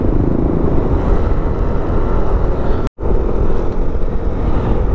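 Yamaha Aerox 155 scooter engine roaring during a highway ride on Marilaque Highway, a loud, continuous close-up drone mixed with wind rush, broken by one sudden brief dropout before the roar resumes.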